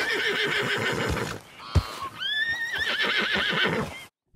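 A thoroughbred horse in Red Dead Redemption whinnies loudly in a rising, wavering neigh, set among snorts and clip-clopping hooves, heard up close without talk.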